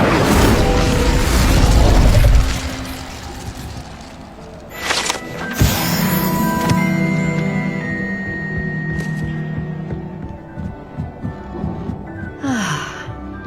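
Incendio fire spell cast in the game Hogwarts Legacy, a loud whooshing burst of flame that fades into a low rumbling tail, followed by softer magical shimmer and a brief bright flourish near the end.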